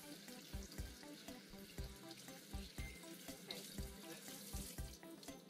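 Water from a tap runs and splashes as a Shih Tzu puppy is rinsed after a shampoo bath, an uneven gurgling patter that comes in bursts, close and fairly quiet, with no voices.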